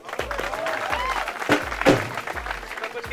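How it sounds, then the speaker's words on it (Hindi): A group in a university college canteen in Haridwar claps in a steady rhythmic beat, moderately loud and close, with voices mixed in. "चलिए तिवारी जी की अब इस कॉन्फिडेंस के ऊपर तालियां हो रहे हैं।"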